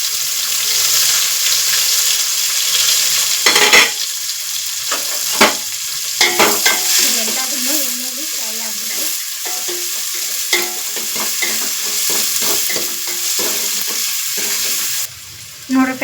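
Garlic sizzles loudly in hot oil in a pan, a constant bright hiss broken by scraping stirs and a few clinks, close and continuous without talking.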